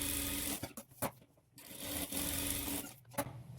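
A sewing machine puts top stitching on a blouse, running in short bursts broken by brief pauses and clicks. It sounds faint and close.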